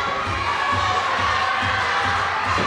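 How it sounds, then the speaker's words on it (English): Pro wrestling event crowd at Ace Pro Wrestling "Overdrive" cheering and shouting in a steady, loud roar from an indoor arena, with rhythmic swells as fans rally behind a wrestler during a match. "Crowd's trying to get behind Rivera."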